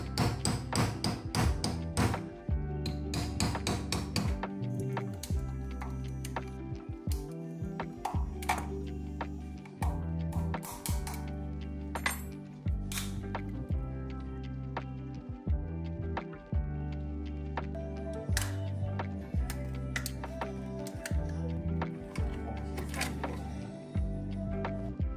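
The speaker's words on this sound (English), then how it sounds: "Pry open the shell." Plastic shell of an HP 96W USB-C GaN charger being pried open, giving repeated close taps, clicks and dull thuds in an irregular rhythm throughout, with no talking.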